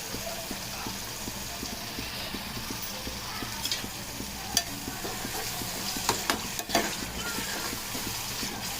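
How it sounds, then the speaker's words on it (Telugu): Tamarind rice (pulihora) being stirred and mixed in a pan, with a steady run of light scraping strokes over a soft background hiss and a few sharper clinks near the end. "ఇలా అంతా కలుపుకోవాలి అంతా కలుపుకొని"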